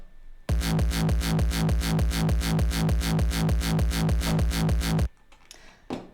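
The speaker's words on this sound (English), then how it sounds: "And this is the sound of the kick." A punchy synthesized techno kick drum repeats in a fast, steady four-on-the-floor rhythm, loud and booming, then stops abruptly.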